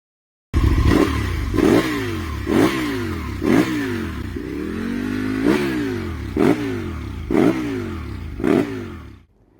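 An Aprilia RSV Mille V-twin superbike engine revving repeatedly, about eight sharp throttle blips rising and falling over a steady idle, close and loud.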